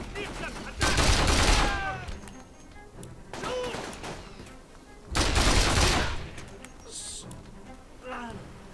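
Gunfire from a .45 caliber gun in the video game Mercenaries 2 comes in loud, close bursts of rapid shots, separated by quieter stretches where voices shout and talk over scattered game sounds.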